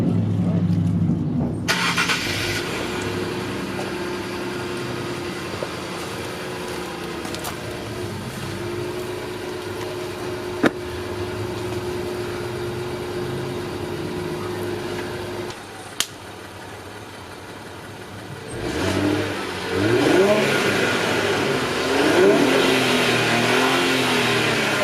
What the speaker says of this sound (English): right now we're gonna give you a cold start to see how it's gonna sound after and before.